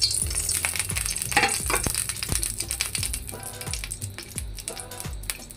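Dried red chillies and black cumin are added to hot oil, giving a steady crackling sizzle with bright high hiss and repeated clinks of a utensil against the pan.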